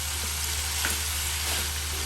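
Fish poured into a hot pan for a koi fish and radish curry, giving a steady, close sizzle of frying throughout with a few faint stirring clicks and no voices.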